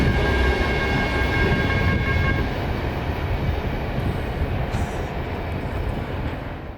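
An empty CSX coal train rolls past on the W&A line at Adairsville, a loud steady rumble and rattle of wagons close by, with a high sustained tone and a gradual slight fade.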